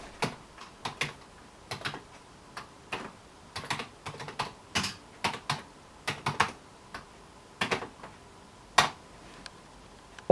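Keystrokes on a Commodore 64 keyboard, a series of irregular clicking taps with short pauses, close and clear in a quiet room with no talking.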